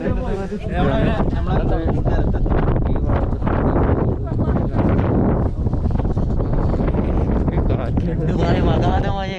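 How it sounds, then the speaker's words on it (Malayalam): Strong wind buffets the microphone in a constant loud roar on a trip to Ooty near a waterfall, with people talking over it throughout. "പറ പറ കാറ്റ് നല്ല കാറ്റുണ്ട്"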